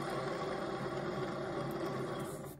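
Dry, worn wheelchair wheel bearings, stripped of lubricant, spin with a continuous close grinding whir that has a rough, ringing edge and fades slightly at the end.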